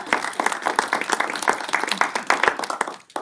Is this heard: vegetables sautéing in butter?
no